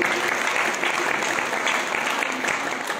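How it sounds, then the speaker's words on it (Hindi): An audience at a devotional gathering claps together, a dense, loud and even burst of applause that continues without pause, no clear voices on top. "एक बार उनके लिए भी ताली बजाएं"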